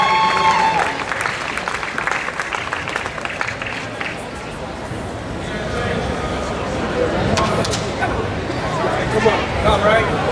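A powerlifting meet crowd claps and cheers for a lifter stepping up to squat, with sustained loud applause and shouting voices filling the whole stretch.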